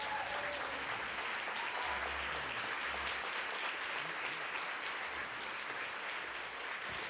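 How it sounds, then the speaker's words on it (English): An audience applauds Christy at a meditation gathering, a dense, even wash of many hands clapping that holds steady for several seconds at moderate-to-faint level. "Give Christy a round of applause"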